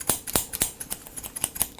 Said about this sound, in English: it's not difficult to do cut with the scissors technique